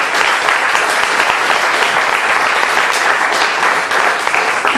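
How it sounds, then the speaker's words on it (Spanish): A church congregation at a Sunday service bursts into loud, sustained applause, a thick, even wash of many hands clapping together for several seconds. "¿Le puedes dar un aplauso a la palabra del Señor?"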